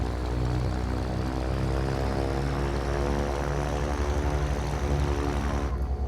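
Propeller aircraft engine idling steadily just after start-up, a loud continuous droning hum with even harmonic tone throughout, no voices.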